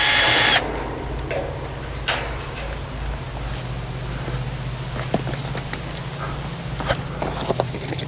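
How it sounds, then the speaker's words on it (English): A power driver backs a regular sheet metal screw out of the panel of an outdoor AC condenser with a steady low whirring hum, then clicks and light taps follow. "Okay, so let's unscrew this. Just a regular sheet metal screw."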